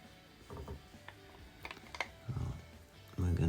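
A Daiwa Tournament S6000T fishing reel fitted with a slow-oscillation kit is cranked by hand, giving soft ratcheting clicks and gear whirring in irregular bursts that grow louder toward the end.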